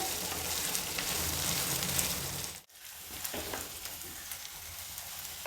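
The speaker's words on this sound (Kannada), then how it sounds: "ಈಗ ನೋಡಿ ಒಗ್ಗರಣೆ ಎಲ್ಲ ಚೆನ್ನಾಗಿ ಫ್ರೈ ಆಗಿದೆ" Tempering with finely chopped carrots and beans frying in a pan for aval avalakki chitranna, a steady dense sizzle that drops out briefly midway, then resumes, close and continuous with no talk.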